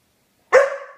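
A single sharp dog bark bursts out close by after a moment of silence, then trails off quickly.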